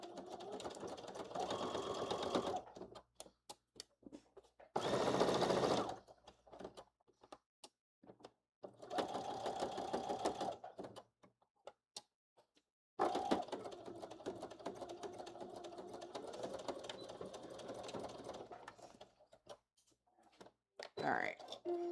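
A sewing machine stitches a half-inch seam on a fanny pack in several bursts of steady whirring, each a few seconds long, with quiet pauses between them and a voice talking at times.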